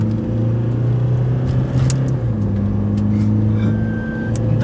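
A Tata Safari or Toyota Fortuner at full throttle in a drag race: a loud, sustained engine drone holds a steady pitch with a slight shift midway, close and continuous throughout.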